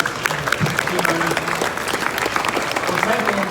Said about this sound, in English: a round of applause for our amazing drivers